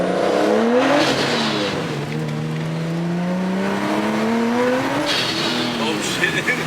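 A Dodge Hellcat drives past on a rainy road, its engine note rising and falling as it approaches and passes close by, loud and continuous for several seconds, with a brief burst of other noise near the end.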